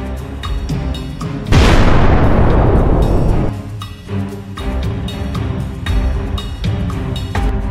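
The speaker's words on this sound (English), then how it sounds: "A better look at the epic explosion of this Russian Blyatmobile" A Russian armored vehicle hit by an FPV drone near Donetsk explodes in a sudden, loud, close boom whose roaring rumble fades over about two seconds, framed by scattered thuds and crackling.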